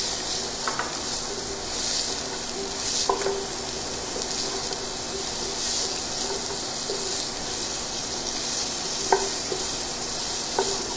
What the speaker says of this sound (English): I'll let that saute for about 5 minutes